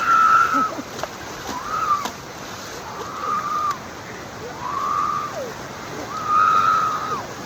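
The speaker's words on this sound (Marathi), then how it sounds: "हे बघा मागे बॅक साईडला बघा इकडून एक धबधबा पडतो" A waterfall at Pemgiri pours down in a continuous rushing wash of water, with bird calls repeating over it and a voice speaking at times.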